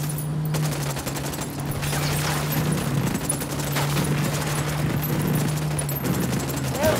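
Sustained gunfire from the video game Ghost Recon Wildlands, rapid overlapping shots in a dense volley over a steady engine drone, loud throughout.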